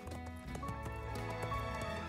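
Rhythmic clip-clop of horse hooves from a riding horse named Belle in a horse ranch video game, with neighs and whinnies over a soft musical background.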